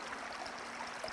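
Water flows gently in a stream, a soft continuous rushing and trickling that stays faint and even throughout with no voices over it.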